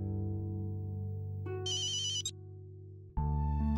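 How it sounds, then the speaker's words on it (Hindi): A phone ringtone plays loud and close, an electronic melody in bright repeating bursts layered over a steady sustained musical bed, with no one speaking. "उठा ले छोरे, कोई जरूरी फोन होगा।"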